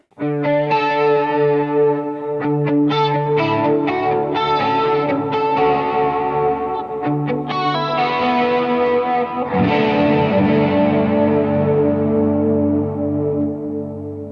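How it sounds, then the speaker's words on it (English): Electric guitar run through a Juliana chorus pedal into a delay, chiming chords and single notes with a shimmering, swirling wash and trailing repeats, played steadily and loud with no talking. "And then I have my Juliana chorus. Into the delay."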